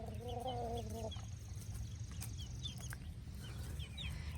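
A Rhode Island Red hen gives a short, drawn-out cluck, followed by quiet farmyard ambience with faint chirping birds in the background.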